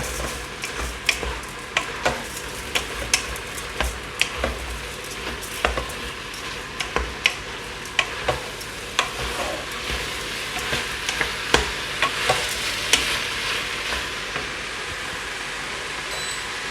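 Rice being stirred and browned in a cooker pot on a browning setting, a steady sizzle under regular scraping strokes of a spoon against the pot, close and rhythmic.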